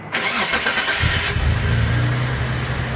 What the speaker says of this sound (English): So he's going to start the vehicle and just make sure that the shaking has ceased.